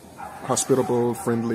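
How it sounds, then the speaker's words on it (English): Dogs in Mexico bark and yip in short bursts close by, heard beneath a person talking. "And you might hear the dogs barking."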